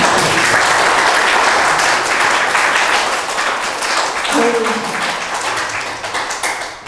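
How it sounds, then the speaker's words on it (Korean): Audience applause at a Korean talk on youth conservatism, dense steady clapping from a crowd that holds loud for several seconds and then slowly thins, with a faint voice briefly under it. "이 타이밍에는 격려의 박수가 나와야 됩니다."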